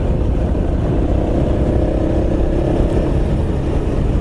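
A Honda CRF250L motorcycle engine drones steadily while riding on a road in Laos, a loud, continuous hum mixed with rushing wind noise throughout, with no voices.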